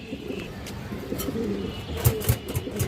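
Female Gorra pigeons coo softly nearby, with a few low throaty pulses rising near the end over faint background noise.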